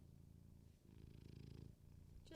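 A cat purrs in a low, steady rumbling pulse up close, the rhythm continuing throughout with a brief louder bump at the very end.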